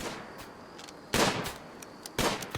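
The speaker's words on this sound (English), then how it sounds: "That is the sound of hunting." Gunshots ring out during hunting in a video game, two loud sharp broadband blasts about a second apart, each with a brief decaying tail over a quiet ambient background.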